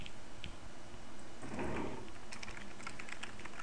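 Fingers tap out a short burst of keystrokes on a computer keyboard, quick light clicks in an uneven run, close and fairly quiet against a faint room hum, with no talking.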